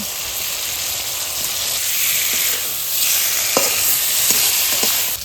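Potatoes frying with ground spices in a pan, giving a loud, steady, close hiss of sizzling oil throughout, with a few faint light knocks from stirring and no talking.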